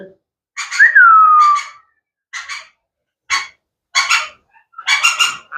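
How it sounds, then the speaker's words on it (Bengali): Albino ringneck parrot giving a series of short, bright chirping calls, one drawn out into a sliding whistle, then several separated bursts, close and fairly loud against silence. "একটা অ্যালবিনো রিংনেক টিয়া পাখি"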